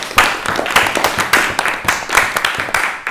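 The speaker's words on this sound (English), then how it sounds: "All right, big round of applause for Thomas." Audience applause for comedian Thomas Lundy at a geek-themed stand-up comedy show, steady dense clapping from a crowd with rhythmic swells throughout.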